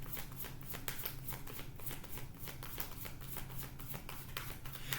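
Close, continuous riffling of a deck of cards being shuffled, rapid fluttering snaps repeating in quick bursts for several seconds, no speech over it.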